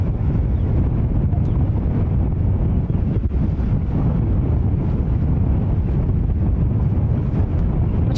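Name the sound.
strong wind at JFK airport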